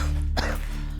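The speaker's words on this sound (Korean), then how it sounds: "청소 중에도 기침이 멈추질 않는데요" A single short cough from a woman pausing while cleaning at home, close and abrupt over a steady low hum.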